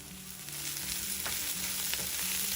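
Pieces of bitter gourd fry in a pan with a steady, close sizzle and crackle, with occasional stirring scrapes and no voices.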